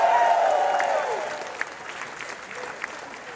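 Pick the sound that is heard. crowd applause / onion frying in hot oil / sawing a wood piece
crowd applause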